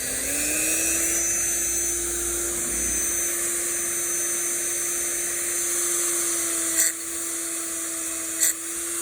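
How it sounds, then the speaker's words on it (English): A Dremel with a worn stainless wire wheel scrubs rust spots on a Catalina 27 sailboat, a steady high-pitched whine held for several seconds, up close with no talk, with a couple of brief scratchy bursts near the end. "I'm going to hit the rust spots with my Dremel, what's left of my Dremel wire wheel, stainless wire wheel."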